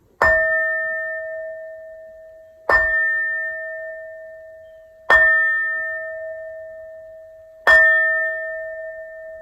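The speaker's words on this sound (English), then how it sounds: "These next 4 bell sounds are to align us and to bless this reading." Four clear bell strikes, evenly spaced a couple of seconds apart, each ringing out with a long, slowly fading tone. No voices.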